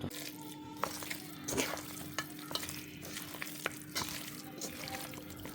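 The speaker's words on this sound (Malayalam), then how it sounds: "ഇതെല്ലാം ചേർത്തിട്ട് നല്ലതുപോലെ ഒന്ന് മിക്സ് ചെയ്തെടുക്കണം" Chicken is being mixed by hand with spice powders, lemon juice, salt and ginger-garlic paste, giving soft, wet squelching with scattered light clicks over a steady low hum, close and fairly quiet.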